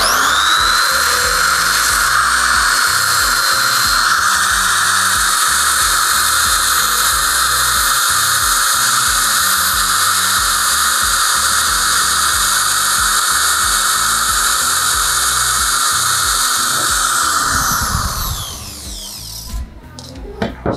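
A die grinder fitted with a flap wheel sands rusty painted iron at maximum RPM, a loud sustained high-pitched whine with grinding grit that runs steadily before spinning down near the end.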